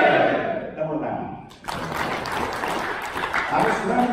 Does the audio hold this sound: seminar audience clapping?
yes